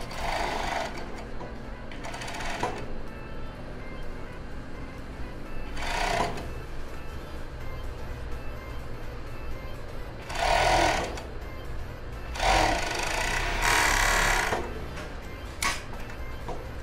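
Sewing machine stitching fabric over a padded bra cup, several short bursts of fast mechanical whirring separated by pauses of quieter handling noise, close and fairly loud.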